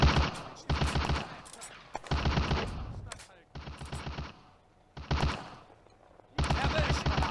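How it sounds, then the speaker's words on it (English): Gunfire crackles through a WWII Eastern Front video game battle, with repeated close, loud bursts of machine-gun and rifle fire in several volleys separated by brief lulls, and faint voices in between. "Shots ring out,"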